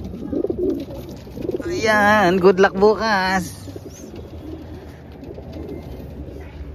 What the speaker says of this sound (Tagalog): Ito yung mga ibon ng ano, pangaray.